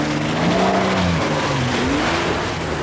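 A reworked Mitsubishi Shogun engine drones and revs on an off-road course, its pitch rising and falling through gear changes in a steady, close, continuous growl with no talking.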